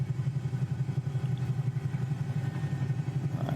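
Twin engines of a Bell 222 UT helicopter spool down in Microsoft Flight Simulator, a low rhythmic pulsing rotor drone, steady and moderately loud with no talk over it.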